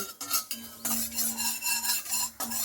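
Coriander and cumin seeds roasting lightly in a wok over low gas, with soft crackle and scraping stirs of a spatula against metal, a few short pauses between strokes.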